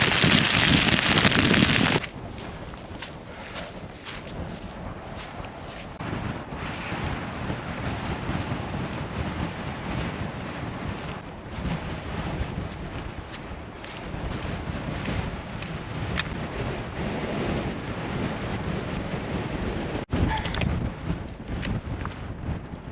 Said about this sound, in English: The downpour, the third one I've had to hide from so far